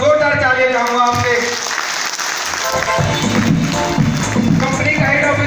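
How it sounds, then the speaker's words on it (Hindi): Loud crowd applause at a company presentation, sustained clapping with a voice or music audible over it throughout. "एक बार जोरदार तालियां चाहूंगा आपसे।"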